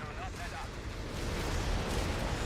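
Stuka walking-barrage explosions from Company of Heroes 3 form a dense, continuous rumbling roar of blasts, with a commentator's voice faintly over it.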